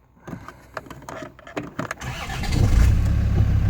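A Land Rover TD5 diesel engine cranks briefly on the key with clicks and whirring, then catches almost at once and settles into a loud, close, rumbling idle.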